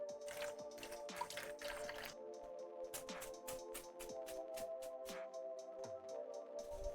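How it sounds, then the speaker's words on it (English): Parsley stems rinsed under a kitchen tap during home cooking, giving a steady wet trickle with quick drips and squishy splashes, close and moderately quiet, with kitchen hum underneath and no talking. "Just gonna give some stems a good rinse or whatever behind you."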